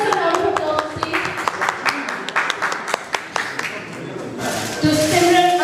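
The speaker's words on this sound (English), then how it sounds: "Give us a round of applause, please." Audience applause at a country club launch event for a VIP platinum membership card, a steady run of clapping from a gathered crowd, with cheering and voices rising near the end.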